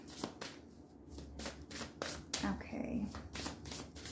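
Oracle cards are shuffled and drawn during a Capricorn energy reading, with soft repeated riffling and flicking under a quiet voice that speaks briefly.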